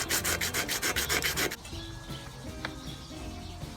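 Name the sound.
sanding a valve cover with 80 grit sandpaper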